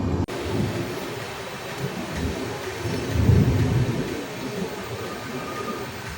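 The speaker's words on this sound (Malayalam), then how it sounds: "ഇപ്പോൾ ട്രെയിൻ വന്നിട്ടുണ്ട്." A train arriving at a railway station in Kerala, a continuous heavy rumble of rolling wagons that swells in the middle and carries on steadily.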